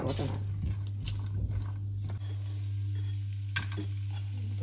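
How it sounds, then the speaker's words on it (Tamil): Cashews and plums frying in hot melted ghee in a pan, giving a steady close sizzle with occasional stirring scrapes and clicks throughout. "கஜுவும் பிளம்ஸும் பொரிச்சு எடுக்க போகிறீங்க"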